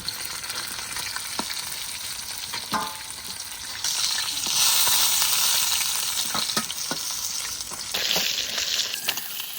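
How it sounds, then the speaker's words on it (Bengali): Pieces of katla fish fry steadily in hot oil, a continuous bright sizzle with occasional sharp pops and spatters, close and fairly loud throughout with no talking. "মাছ ভাজা হয়ে গেছে, এবার তুলে নেব।"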